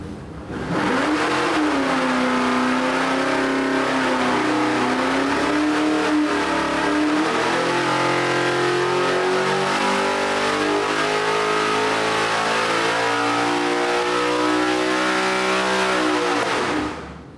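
An LS3 404-cubic-inch stroker V8 with 11.8:1 compression and a hydraulic cam, run on an engine dyno at 30 degrees of timing, gives a loud, continuous roar that climbs steadily in pitch over a long pull, with no other sound.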